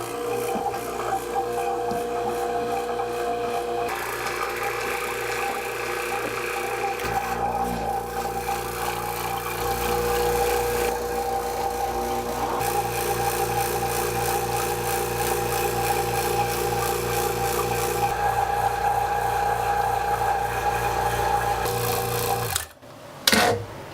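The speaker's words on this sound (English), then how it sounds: "So I'll turn on the vacuum pump and we'll give it a shot." A Rockler vacuum hold-down pump runs with a steady tonal hum and whine in a woodworking shop, while a PantoRouter setup with wood being worked adds rubbing and rasping noises over it. A brief clunk comes near the end.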